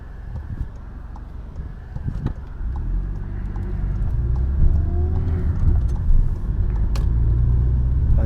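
Car interior during a driving lesson while turning left at a junction in Brno, a low steady engine rumble building gently as it pulls away, with road noise and no talking.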